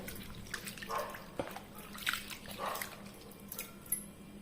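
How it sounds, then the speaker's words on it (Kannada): Poha (flattened rice) being washed in water, soft sloshing and swirling splashes with a few sharper drips and clinks, quiet and close, no speech. "ಅದಕ್ಕೆ ನೀರು ಹಾಕಿ ಒಮ್ಮೆ ಚೆನ್ನಾಗಿ ವಾಶ್ ಮಾಡುವ"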